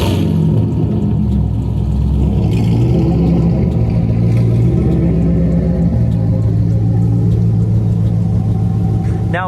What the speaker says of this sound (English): we'll give this thing some revs and hear what it sounds like